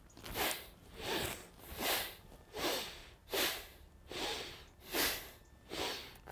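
Deep breaths drawn through the nose during a guided breathwork session, six slow rhythmic rushes of air, each swelling and fading at an even pace, close and fairly soft.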